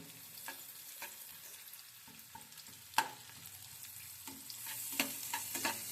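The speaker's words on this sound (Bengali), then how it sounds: "পেঁয়াজটা ভাজবেন জাস্ট যতটুকু গন্ধ না থাকে" Onions fry in a pan over low-medium heat, giving a soft steady sizzle with light scraping taps of stirring scattered throughout.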